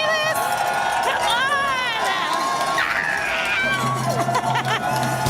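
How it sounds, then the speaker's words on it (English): An excited crowd buzzes and cheers at a women's mile race in Paris, a loud continuous roar of voices with whistles and shouts, a commentator's voice carrying over the noise. "This is an amazing electric crowd."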